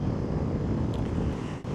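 A Voge DS 525X motorcycle ridden off-road gives a steady, loud, close engine roar mixed with heavy wind rush, with no pauses or talk.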